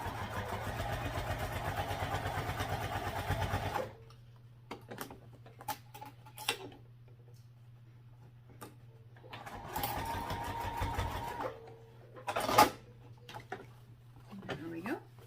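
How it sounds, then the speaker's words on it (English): A sewing machine top stitches a fabric sling in a fast, even, close mechanical rattle for a few seconds, then stops. It resumes in a shorter burst later, with quiet handling noises in the pauses. "We'll top stitch this at 1/4 or 1/8 of an inch, top stitching it."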